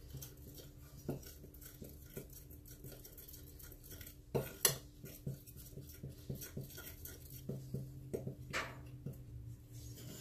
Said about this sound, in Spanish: Los vamos a mezclar muy bien.